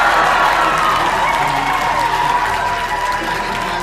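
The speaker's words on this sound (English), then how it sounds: "everybody jumped out of their seats and was screaming and cheering and so excited and hugging" A packed conference room erupts at the announcement of NASA's Dragonfly mission to Titan, with dense, loud applause and cheering sustained throughout and crowd voices mixed into the roar.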